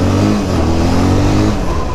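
A Benelli TNT 300 motorcycle fitted with an Akrapovic exhaust revs loudly up close, its deep engine note rising and falling across two seconds with no talk.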